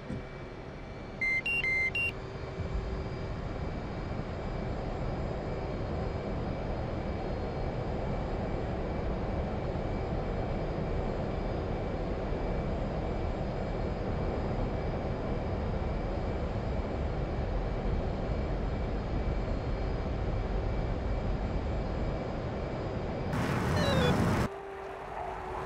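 A jet aircraft in a combat flight simulator rolls down the runway and takes off, a broad, steady roar that holds throughout, with a short electronic beep near the start and a brief burst of noise near the end.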